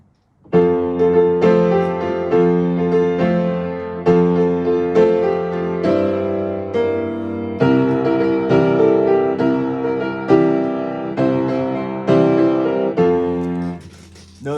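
Solo piano plays the hymn Heaven Came Down in 6/8 compound meter, full chords on a steady two-beats-per-measure pulse, loud and close, with no talking over it.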